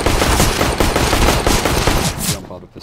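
AK rifle fire in CS:GO comes as a loud, rapid automatic burst of close shots, continuous for most of the moment before cutting off abruptly.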